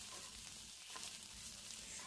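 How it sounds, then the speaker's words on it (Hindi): Boiled radish leaves fry in a hot tempering pan with chopped green chillies, giving a steady close sizzle with faint stirring scrapes and no talk. "अब हम इसमें मूली का पत्ता उबला हुआ डाल देंगे और उसको"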